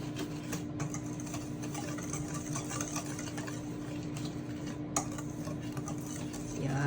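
Brownie batter being stirred by hand to combine the dry ingredients, a steady soft scraping and ticking of utensil against bowl, close and continuous, with a faint voice now and then.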